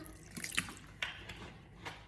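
Water is poured into a pot to cover eggs for Thai clear omelette soup, heard as faint, uneven splashing and trickling bursts with a few sharper drips, with no talk.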